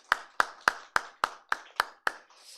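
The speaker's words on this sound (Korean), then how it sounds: "하나님께는 영광이 되고 우리 김나영 권사님 12독을 한 거에 대한 축하 박수, 네, 감사 박수" A church congregation claps in celebration with eight crisp, evenly spaced claps in a steady rhythm, fairly quiet and without other sound, ending in a soft trailing patter.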